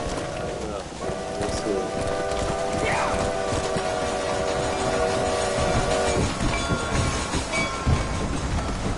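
A steam train in Red Dead Redemption rumbles along with a sustained whistle sounding over it, while hooves clip-clop nearby and someone speaks.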